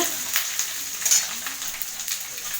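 Ginger paste fries with onion and garlic, a soft continuous sizzle broken by light stirring sounds, with no talking.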